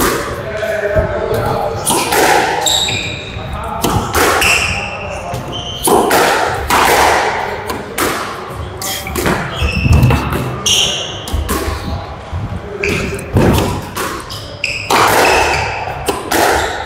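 A squash ball cracks against the front wall and thuds on the court floor in a fast, irregular rally during a channel game, with sharp echoing hits and squeaking shoes under players' voices.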